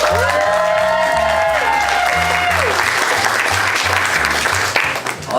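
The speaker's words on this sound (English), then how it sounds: "Can we just take a second to give a round of applause to these amazing women?" An event audience breaks into applause for a group of women, dense crowd clapping with some cheering and whoops, rising over a music track with a sustained tone that fades, loud and continuous to the end.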